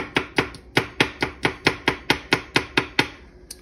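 A knife chops food on a cutting board for a three-ingredient marinara, making about fifteen sharp, evenly spaced, close knocks in a steady rhythm with no talking.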